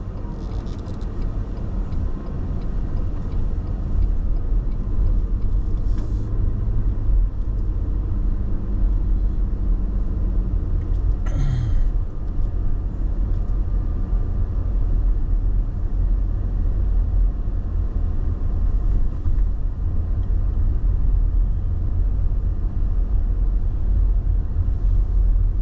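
Steady low rumble of a car cruising the streets of Algoma, Wisconsin, engine and road noise from inside the cabin with a couple of brief clicks and no talking.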